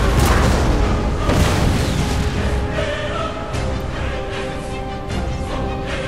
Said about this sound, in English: he's going to continue bombarding me and eventually rout my howitzer in the middle.